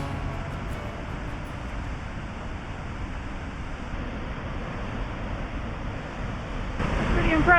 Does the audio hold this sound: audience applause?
no